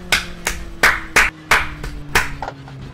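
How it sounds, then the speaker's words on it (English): A few slow, loud claps spaced irregularly, close by, with a low hum underneath. "No, that was an applause."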